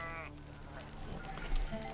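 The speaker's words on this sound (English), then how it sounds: "his chore of the day is to let the goats and sheep out and take them out into the field." Goats and sheep bleat briefly as they are let out into a field early on a cold morning, faint farmyard calls over low background noise.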